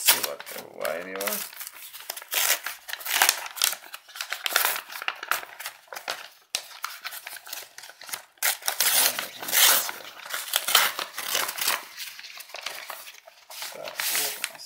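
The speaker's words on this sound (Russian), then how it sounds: "Сейчас мы откроем и проверим, чтобы это все было." A parcel is torn open and its plastic wrapping crinkled and crushed up close, in repeated bursts of rustling, with talking heard between the bursts.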